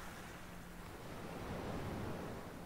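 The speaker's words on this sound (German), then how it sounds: "Aber ich werde vorher mal etwas von dem Wasser wegschütten." Water is poured out of a bucket in a point-and-click adventure game, making a quiet, continuous splashing rush that swells slightly toward the end, with no voices.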